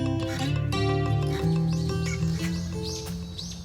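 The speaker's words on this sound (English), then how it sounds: "Listening to the birds." Birds chirp and tweet in quick repeated calls over a dense outdoor hum and background murmur in Tokyo, moderately faint.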